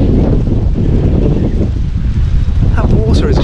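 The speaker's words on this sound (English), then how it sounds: "It is quite windy today, isn't it" Strong wind buffeting the microphone at a Fiji beach resort by the water, a loud continuous rumble with gusts, and faint voices breaking through near the end.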